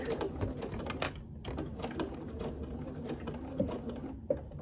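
A sewing machine stitches a pleated cloth face mask, running steadily with a fast mechanical whir and close, even needle chatter, and a couple of brief clicks along the way, no voices.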